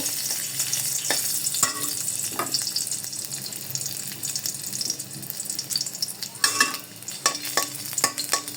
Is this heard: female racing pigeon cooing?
no